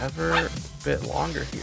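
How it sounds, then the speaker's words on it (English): A dog barks a few times close by, short yipping woofs heard under someone talking. "I apologize for the dog."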